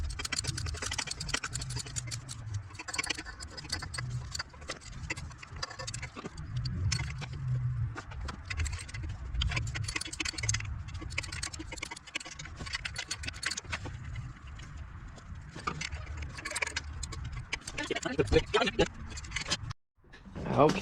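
A socket wrench ratcheting and clinking against header bolts on an E36 M3, with irregular metallic scraping and clicks close by, mixed with a person's voice and some handling noise.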